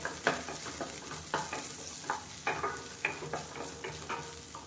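Small onions fry in hot oil, giving a soft steady sizzle broken by repeated scraping stirs at a regular pace, close and fairly quiet, with no talking.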